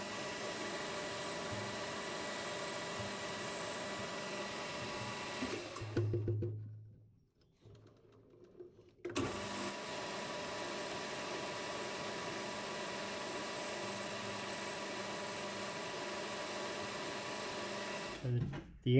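Metal lathe turning a part for a Cub Cadet repair, a steady loud machining drone that drops out briefly near the middle, then resumes continuously until the end.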